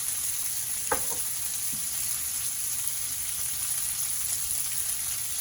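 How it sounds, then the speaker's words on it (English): Bacon sizzling on an electric griddle, a steady close frying hiss with a short scrape and clatter near the start as the strips are flipped. "I'm going to give this bacon a quick flip."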